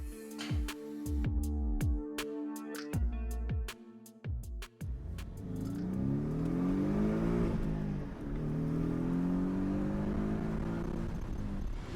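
A Porsche 718 Cayman S fitted with a downpipe and blow-off valve is driven off. After some clanks and thumps, the engine revs up and holds a loud, rising roar through to the end.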